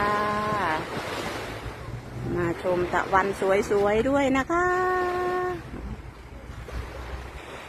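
Sea waves wash onto a beach with a steady breezy rush, mostly beneath someone talking over it.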